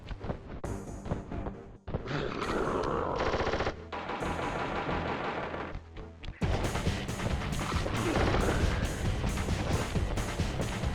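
Rapid machine-gun fire and heavy blasts rattle through a boss fight in the Sly Cooper video game, loud sustained bursts with crashing impacts over a pulsing game soundtrack.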